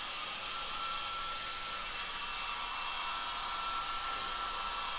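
Hair dryer blowing warm air over a thin watercolour wash, a steady, even broadband whoosh that holds constant throughout with no pauses or talk.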